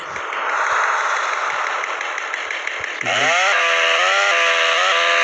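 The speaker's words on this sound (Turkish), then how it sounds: "Bir de bakın testereyle de deneyelim bakalım." A chainsaw in the video game GTA San Andreas runs at a loud steady buzz, then revs sharply up into a higher, harsher whine as it is swung.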